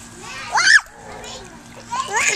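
A child splashes in swimming pool water, a short close splash mixed with a voice and an adult speaking nearby, followed by more splashing.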